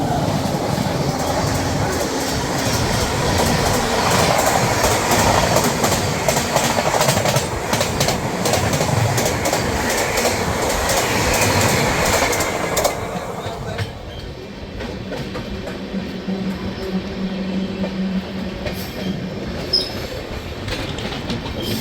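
The Delhi–Mumbai Rajdhani Express rolls along the tracks with a loud, continuous roar, clickety-clack and wheel squeal, then settles into a quieter rumble halfway through, while someone talks over it.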